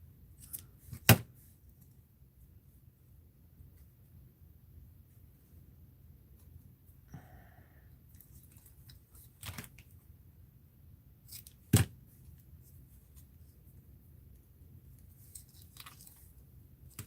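Scissors snip thread in a few sharp, faint clicks spaced seconds apart over a near-silent background.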